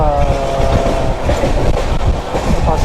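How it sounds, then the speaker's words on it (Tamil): Grand Trunk Express passenger train running near Hazrat Nizamuddin station, with a loud, steady rumble and rhythmic clickety-clack of wheels on rail joints throughout. "ஹஜ்ரத் நிஜாமுதீன் ஸ்டேஷனுக்கு பக்கத்தில் வந்துட்டுருக்கு நம்ம ட்ரெயின்."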